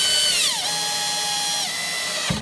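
Power driver running screws into an LED reef light fixture during reassembly, a close high whine that sweeps down in pitch twice as each screw seats, then stops abruptly.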